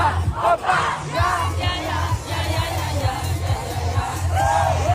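French fans at a concert cheer and yell together, a loud sustained crowd roar with rising shouts and chant-like calls over a low musical throb.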